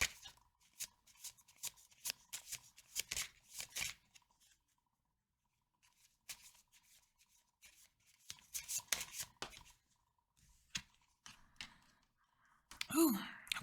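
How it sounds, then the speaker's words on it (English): A deck of gremlin-themed playing cards is shuffled by hand, giving quick crisp riffling bursts close by, followed by a quiet gap and a second shuffle, with a soft breath near the end. "let me grab my gremlin playing card deck, and we will see what is Gemini's gremlin"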